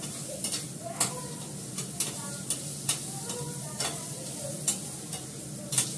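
A spoon stirs and scrapes a curry sautéing in ghee with garam masala, making repeated short strokes about once a second over a steady, soft sizzle in the pan.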